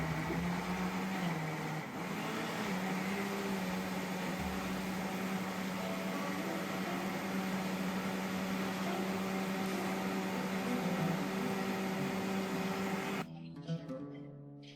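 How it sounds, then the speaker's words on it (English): A countertop blender runs steadily, blending roasted red pepper hummus into a smooth paste. The motor drone stays loud and constant for about thirteen seconds, then cuts off abruptly and leaves a brief quiet tail. "Now close the lid and blend the ingredients to a smooth paste."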